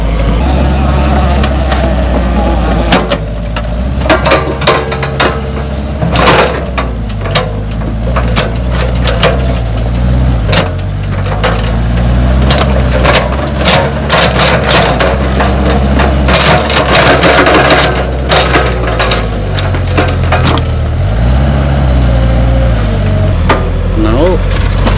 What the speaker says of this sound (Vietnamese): Xe chắc hết bình hay gì đấy, cái cuốc đẩy nổ máy luôn.